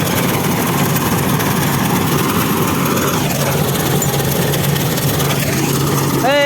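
A wheat harvesting machine runs in a field, its engine droning steadily and loudly up close, with a brief high whine near the end, while people talk over it.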